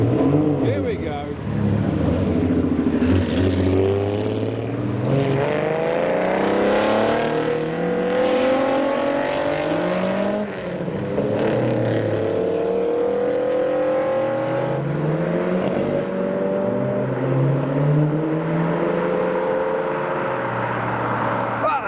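A Ferrari Testarossa leaves a night-time car meet, its engine revving and shifting up through the gears as it pulls away, loud and continuous. Voices of onlookers can be heard talking over it.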